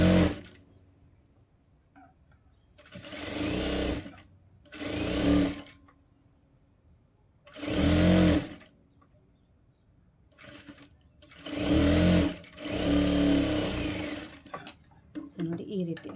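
A sewing machine stitches a blouse sleeve side seam in several loud bursts of rapid whirring, with quiet pauses between the runs.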